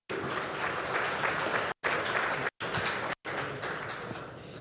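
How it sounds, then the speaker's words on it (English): An audience at a real estate investment panel applauds the panelists with continuous, fairly even clapping, broken by a few abrupt silent gaps. "So if we can please give another round of applause to our panelists today."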